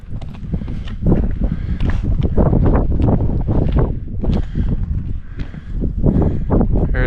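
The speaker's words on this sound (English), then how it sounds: "I think the valley's just a wind tunnel." Gusty wind on the Crib Goch mountain ridge buffets the microphone in loud, rough surges that rise and fall without pause.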